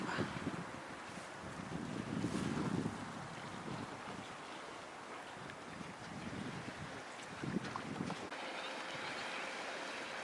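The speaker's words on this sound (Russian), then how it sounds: "Ну вот, метеорчик еще один приехал." A Meteor hydrofoil pulls up to the pier on a bay at Sortavala in Karelia, its steady rumble and water wash mixed with gusting wind noise, with no talk.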